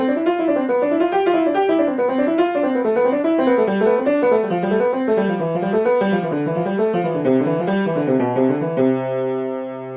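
A piano runs a Hanon finger exercise at full tempo across one octave, steady rising and falling note patterns repeating evenly, close and clear, ending on a held chord.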